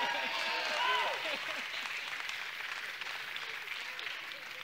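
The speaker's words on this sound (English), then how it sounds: "we are cheering for Aaron" A church congregation applauds and cheers for Aaron during a service, the clapping and voices strongest early on and then settling into a softer, steady wash of applause.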